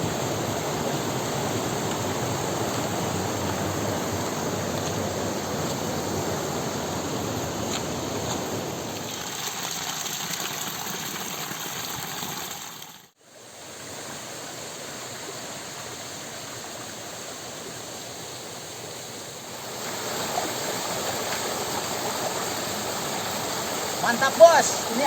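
A clear village stream flows steadily as a broad, even rush of water, close and constant, easing slightly quieter midway with a brief dip before continuing.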